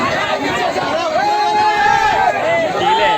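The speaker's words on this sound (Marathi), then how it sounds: "बाहेर गर्दी बघा केवढी आहे." Dense crowd packed outside an Indrayani Express general coach at a Pune-area station platform, a loud constant babble of many voices with rising and falling calls, close and unbroken for the whole stretch.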